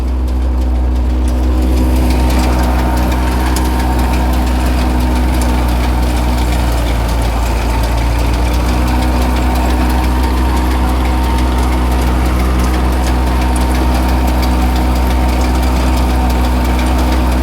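A tractor engine idles loudly and steadily up close, a deep rhythmic diesel rumble with a knocking throb that never lets up.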